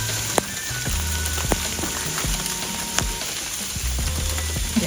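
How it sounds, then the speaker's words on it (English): A mix of wet snow and rain falls outdoors onto an icy table and nearby surfaces, a steady close patter with scattered sharper drops tapping irregularly throughout. "it's definitely a mix of snow and rain"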